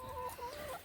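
Chickens cluck in short, repeated calls inside a chicken run fenced with pallets, close and clear with no talk over them.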